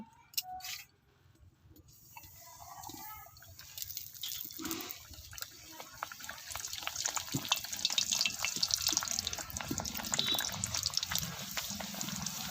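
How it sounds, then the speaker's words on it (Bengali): Pea-stuffed Bengali kachuri fry in hot oil in a wok, a soft sizzle and crackle that builds gradually and grows busier, with a few faint clinks early on and no talking. "এবার আমি কচুরিগুলো আস্তে আস্তে ভেজে নেব"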